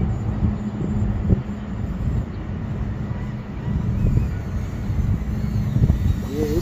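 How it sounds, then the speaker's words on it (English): Strong wind buffets a small FPV whoop drone (Walksnail Avatar HD Nano v3 conversion) flying in a park, a loud steady roar of rushing air across the mic with a faint thin motor whine above it. "Man, it's fighting the wind hard."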